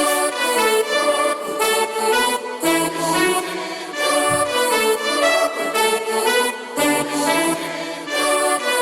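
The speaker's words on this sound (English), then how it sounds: "I just put together this lead using a bunch of different trumpet sounds" An electronic remix drop carries a bright lead built from several layered trumpet sounds, playing rhythmic stabbed phrases with short gaps between them, loud and full, with no voices.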